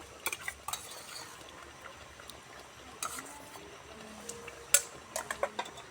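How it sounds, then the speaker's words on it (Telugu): Ginger paste is stirred into a tamarind fish curry base with a ladle in a pot, giving soft scraping strokes and scattered metallic clinks over a low background, one sharper clink near the end. "ఒకసారి అయితే బాగా కలిపి తిప్పేసుకుందాము"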